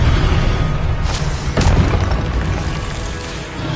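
An Incendio fire spell cast during Hogwarts Legacy combat, a loud sustained roaring boom with two sharp bursts inside a dense rumbling wash of game noise.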